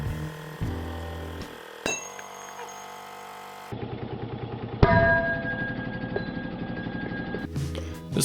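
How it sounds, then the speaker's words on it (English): An electric tire inflator buzzes loudly for several seconds, with a sharp clank partway through as it forces the piston out of a front brake caliper on a Miata. Mechanical clatter and metallic knocks follow over the steady drone. "Something much easier is something like an electric tire inflator."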